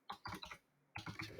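Quick bursts of typing on a computer keyboard, a rapid run of clicks, then a short pause, then another fast run of keystrokes, close and clear.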